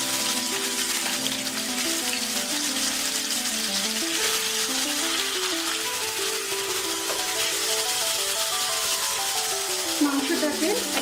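Sauce-marinated meat seasoned with pepper and salt sizzles steadily in a little hot oil in a pan, a continuous loud hiss with faint music underneath.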